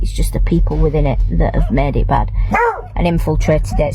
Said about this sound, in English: Excuse my dog, another dog going past.